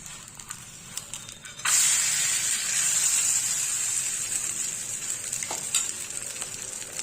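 Bun dosa, sprinkled with cashew nuts, sizzles loudly in hot oil on a pan. It is flipped, and the hissing frying then swells and holds steady with a few soft scraping clicks.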